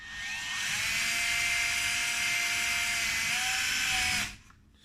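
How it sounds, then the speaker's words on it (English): A small power drill pre-drills 1/16-inch screw holes for a model tailwheel mount, a high, steady whine held for about four seconds before cutting off abruptly. "I'm going to pre-drill my 1/16 holes for these screws"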